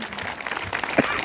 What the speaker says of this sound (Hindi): बड़े इनके लिए एक बार आप तालियां बजाएं जरा जोर से